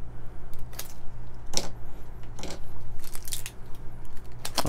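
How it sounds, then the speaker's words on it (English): Tape being pulled and torn off a package containing a WDT tool, a series of sharp scratchy rips and crinkles at close range over a low steady hum, with no speech. "I'm just gonna remove the tape."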